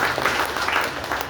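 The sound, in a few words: congregation applause in church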